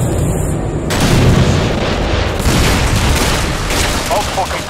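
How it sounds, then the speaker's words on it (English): A loud rocket-propelled grenade blast in the Modern Warfare 2 campaign, a sustained rumbling boom with gunfire crackling through the din of combat, all close and heavy from start to finish. "Look out! RPG!"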